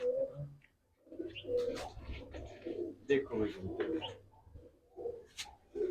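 Several racing pigeons coo softly and repeatedly close by in a loft, their low throaty calls mixed with a few chirps while someone talks over them.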